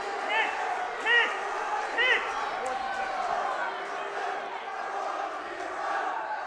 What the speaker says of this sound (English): Crowd's not happy with the call by the official